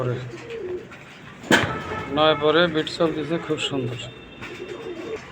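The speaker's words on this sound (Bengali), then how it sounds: "খুব সুন্দর কবুতর।" Pigeons, including Danish and velvet-type fancy breeds, coo in a series of soft rolling calls close by, while someone talks over them.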